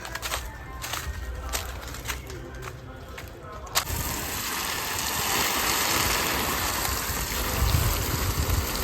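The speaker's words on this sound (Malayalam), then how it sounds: "നല്ല സ്പീഡിലാണ് വെള്ളം വീഴുന്നത്" Water from a hose pipe gushes onto newly planted tomato seedlings in a rooftop garden, a strong continuous rush that starts abruptly partway through and runs steady, close to the microphone.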